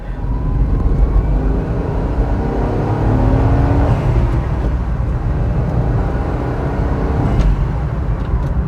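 A Honda S660 sports car with close-ratio gears and a light clutch accelerates and works through its gears, its engine a steady, loud drone heard from inside the cabin with no talk.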